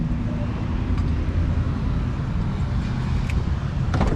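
A Ford Mustang on a test drive, heard from inside as a steady, loud engine and road roar with no clear gear changes, constant throughout.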